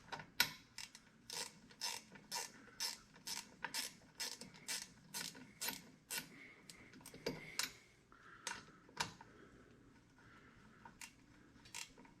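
A hand ratchet clicks in quick repeated strokes while loosening the four driveshaft bolts on a vehicle's rear end, crisp, close and quiet, with short pauses between bursts.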